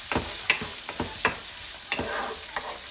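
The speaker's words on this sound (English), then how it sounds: "Let's check our onions. It's not fully golden, but let's saute this." Onions sautéing in a pan for a lentil and spinach stew, with a steady close sizzle broken by several sharp scraping stir strokes at roughly regular intervals, no talking.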